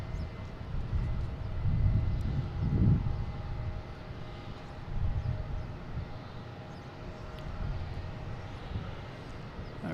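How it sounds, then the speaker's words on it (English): A JetBlue airliner takes off at Boston Logan International Airport, its engines making a broad, rumbling roar at a moderate distance that swells a little and then settles into a steady drone. "I got this JetBlue taking off here"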